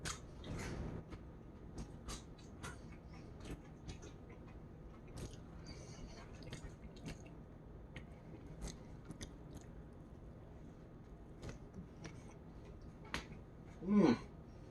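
Crunchy, freshly fried fries being chewed close to the mic, giving repeated sharp crisp bites and crunches in an irregular rhythm over a quiet background, with a louder mouth sound near the end.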